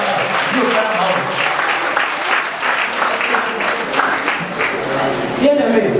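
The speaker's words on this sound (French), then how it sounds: "Applaudissons le Seigneur." A church congregation at a Sunday service claps steadily throughout, with the speech-like noise of voices mixed into the clapping and a brief tonal sound near the end.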